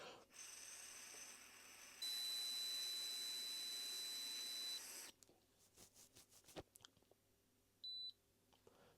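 An electronic breathalyzer whistles steadily as someone blows into it, a high continuous tone lasting a few seconds, then clicks and handling noises, then a short electronic beep near the end; no talking.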